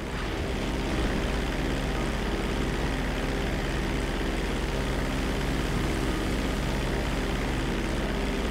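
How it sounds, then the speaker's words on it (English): A propeller airplane engine in Grand Theft Auto V drones as a steady, dense roar for several seconds, loud and unbroken, with no speech over it. "Bring the plane back in."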